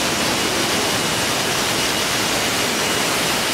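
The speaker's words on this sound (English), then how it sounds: "Oh, there is high water falls here, guys." A high waterfall in Queen Sirikit Botanic Garden in Chiang Mai, Thailand, a loud steady roaring rush of falling water filling the whole clip.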